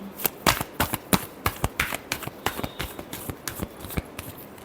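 A deck of tarot cards is shuffled by hand, giving a quick series of crisp riffling snaps and slaps in an uneven rhythm, close and fairly clear, with no speech over it.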